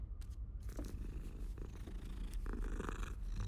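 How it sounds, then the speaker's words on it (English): A cat purring in the video game Hogwarts Legacy, a steady low rumbling purr heard up close and alone, with faint game ambience behind it. "Oh, that's a cat."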